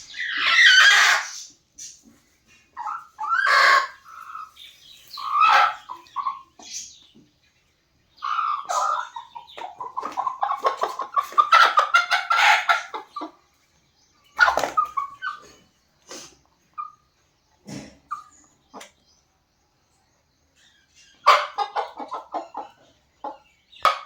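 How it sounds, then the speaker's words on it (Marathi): Desi village hens, freshly arrived by parcel after a long journey, cluck and squawk in close, irregular bursts with pauses between, with a dog-like whimper or bark mixed in at times. "आज आपल्याकडे पार्सल आलेलं आहे कोंबड्यांचं, गावठी गावरान कोंबड्यांचं."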